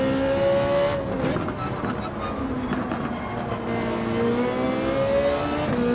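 A race car in Gran Turismo 7 pulls away from a start in second gear. The engine drones loud and close, its pitch climbing, dropping at a shift, then rising again.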